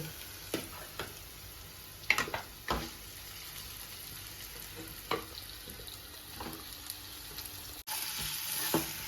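Boiled, mashed tapioca fried and stirred in a pan with onion, turmeric, dried chillies and curry leaves; a steady soft sizzle runs throughout, broken by several sharp scraping strokes of the stirring spoon, with no talking.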